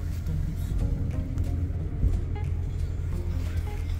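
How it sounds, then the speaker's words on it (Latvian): Steady low rumble of a moving bus heard from inside, with constant engine drone and road noise while people talk over it. "Mēs braucam, jau mēs autobusā esam."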